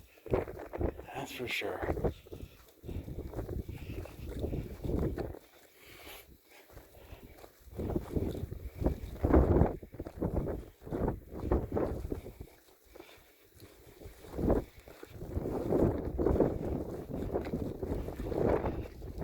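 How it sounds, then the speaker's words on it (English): Gusty wind on the summit of Black Mesa buffets the microphone in repeated rough, roaring bursts that rise and fall, while people talk briefly over it. "Was not prepared for this wind."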